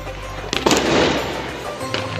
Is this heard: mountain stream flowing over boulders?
no